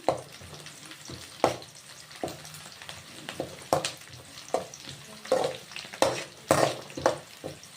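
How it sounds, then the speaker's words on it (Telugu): Onions frying in a pan for a Telugu-style cabbage fry, a soft crackling sizzle with repeated irregular scrapes and stirring knocks up close. "ఈ ఎర్రగడ్డల్ని మరీ ఎక్కువ వేయించకూడదండి"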